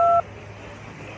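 A mobile phone beeps once as a number is dialed, a short clear tone at the start followed by quiet room background.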